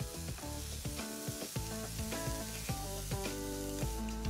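Onions and chopped de-seeded tomatoes frying in a pan with ginger chili paste and green peas, a steady close sizzle running throughout with faint stirring, no voices.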